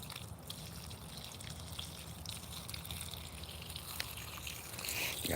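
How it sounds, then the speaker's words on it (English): Water gushing from a garden watering line at a suburban homestead, a steady trickling flow close by, with a slightly stronger rush toward the end. "That one has water gushing out now."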